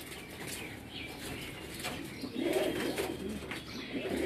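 Breeder pigeons coo in low, soft bursts near the middle and end, with faint wing flaps and rustling against a steady background hum.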